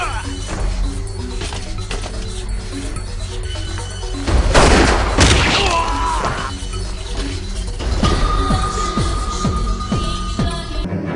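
Gunfire from a weapon chambered for 5.45x18mm cartridges, a cluster of sharp loud reports around the middle followed by scattered shots, set against steady background noise.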